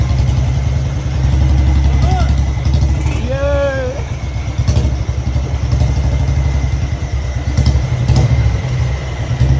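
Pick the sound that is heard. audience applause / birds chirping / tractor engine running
tractor engine running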